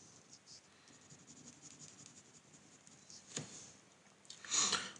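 A marker squeaks and taps on a board while an orbital diagram is drawn in a chemistry lecture, faint scratchy strokes ending in a sharper, louder squeak of a quick final line.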